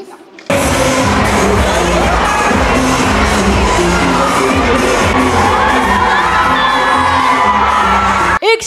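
A large concert audience on a stage in Groningen cheers, shouts and whoops in a loud, continuous roar that holds steady for several seconds, then cuts off abruptly near the end.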